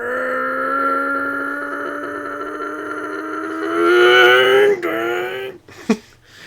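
A car engine revs high without shifting up, a sustained whining drone that climbs in pitch, peaks loudly, then drops off abruptly into a brief burst of noise.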